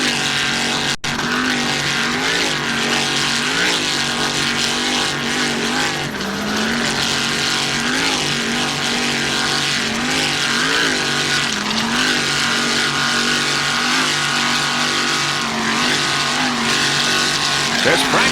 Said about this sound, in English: Archer Marine, powered by one 640 horsepower Mercury engine.